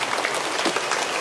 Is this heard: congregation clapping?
yes